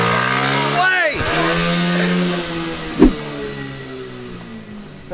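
A drag-race lawnmower's engine revs loudly up close, its pitch climbing and dropping with a throttle blip partway through, while people talk over the roar.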